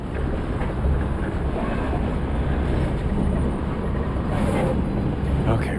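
Steady rumbling of a train rolling along in the horror video game REVEIL, a loud continuous low drone with faint rhythmic clatter and no talking.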